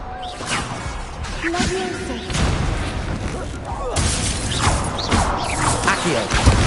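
Incendio fire spell cast in a Harry Potter video game, heard as a series of booming, crackling bursts and mechanical clatter, with loud surges near the middle and end of the stretch.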